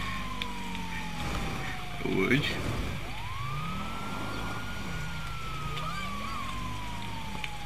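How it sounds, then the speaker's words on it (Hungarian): An emergency vehicle siren in GTA V Online wails in long rising and falling sweeps, loud and continuous over engine rumble, while someone speaks briefly. "Vigyázzatok, nem látod, hogy szirénázok"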